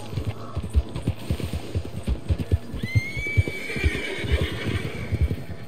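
A horse in Red Dead Redemption 2 lets out a loud, drawn-out whinny over steady clip-clop hoofbeats, with the hooves thudding in an even rhythm throughout.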